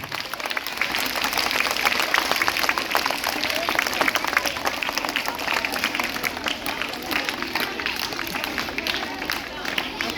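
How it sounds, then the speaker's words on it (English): Junior schoolchildren clap their hands at a Diwali and Chhath Puja celebration, a dense, continuous patter of many small hands mixed with crowd hubbub and voices talking over it. "Clap your hands, children."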